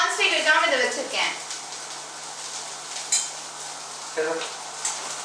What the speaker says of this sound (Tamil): அப்புறம் ரொம்ப உப்பு எடுக்கிறதுக்காக தான் நான் வதக்குறேன் கௌஷி